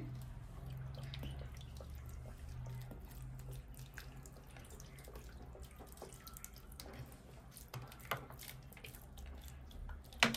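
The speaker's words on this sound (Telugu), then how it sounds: "సో ఫస్ట్ టైం అయితే కొంచెం ఎక్కువ వాటర్ వేయండి." Water splashes and trickles steadily onto soil in a terrace garden bed planted with seeds, a continuous low gushing with scattered drips, fairly faint and without talk.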